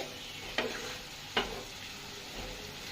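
Prawns frying in oil in a pan make a quiet, low sizzle. Two sharp spatula taps or scrapes cut through as they are stirred.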